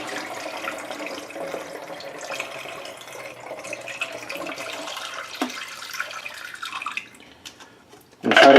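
Black-and-white film developing chemical poured back into its container, a soft continuous liquid trickle and splash lasting several seconds, with a brief sharper sound at the end.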